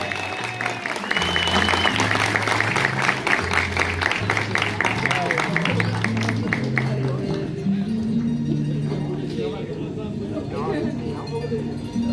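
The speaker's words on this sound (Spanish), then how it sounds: "El aplauso" Audience applause fills a school graduation ceremony for ninth-grade and third-year students, steady and dense for several seconds while music or tones run underneath and then ease off.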